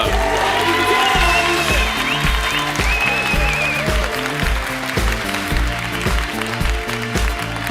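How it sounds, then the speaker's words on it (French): A comedy show audience breaks into loud applause and some cheering for a comedian, while steady, rhythmic background music pulses beneath the dense clapping. "Je vous donne un tonnerre d'applaudissements pour Alexis Le Rossignol."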